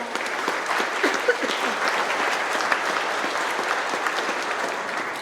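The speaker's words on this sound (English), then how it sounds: "Let's give these guys a round of applause." A crowd claps steadily and loudly, a dense wash of applause that holds at an even level throughout.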